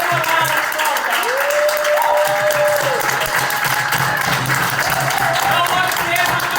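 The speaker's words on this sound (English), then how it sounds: "Let's give a round of applause, y'all." A crowd applauds at a community rent stabilization meeting hosted by CASA, with loud sustained clapping throughout, along with cheering and a rising shout in the mix.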